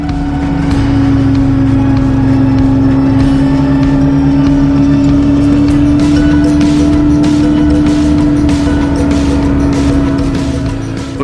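A motorcycle engine droning loud and steady while climbing a hill on a rural route near Emmett, Idaho, a constant rumbling tone held throughout with little variation.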